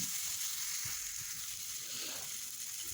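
Spices and ginger paste sizzle and fry steadily in hot oil for a Bengali pabda fish curry, a continuous close hiss with occasional faint stirring scrapes.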